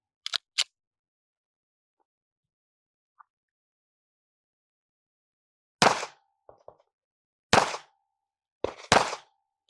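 A Staccato P Heritage 2011 pistol fires at a range, several sharp loud reports spaced a second or more apart with a double shot near the end, preceded by faint clicks and handling.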